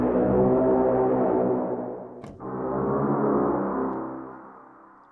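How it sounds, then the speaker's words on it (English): Dark, brooding growling brass bends from the epic bends patch of the Keepforest Evolution Atlantica synth library, sustained and swelling, then briefly dipping before a second loud bending phrase that fades at the end. "Just sort of quite dark, brooding brass bends there. It's a growling brass patch."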